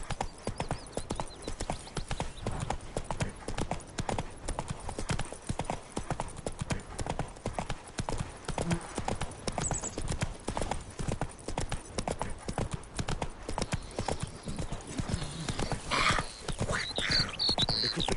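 Roach, the horse in the video game The Witcher 3, gallops in a fast, continuous clip-clop of hooves that runs loud and close through the whole stretch, with a brief whinny amid the pounding.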